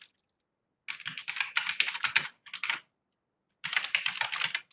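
Typing on a computer keyboard to enter a file name: close, crisp bursts of rapid key clicks in three runs separated by short pauses, with no voices.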